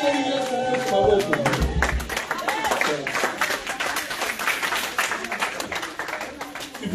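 A church congregation stands and acclaims the Lord with sustained applause and clapping, a dense crowd sound that fills the room alongside voices and music throughout.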